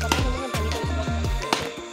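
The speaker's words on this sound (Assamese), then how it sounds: "কি কাটিছে মায়া তামোল গছ কাটিছে" A storm-felled areca nut palm is chopped through, its trunk taking repeated heavy blows in a fast, regular rhythm, each strike a loud, close, woody thunk, with no talk over the hacking.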